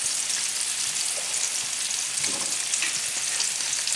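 Sausage and tomato sauce frying steadily in a pan as balsamic vinegar goes in, a dense continuous sizzle with a few brief crackles, close and even throughout.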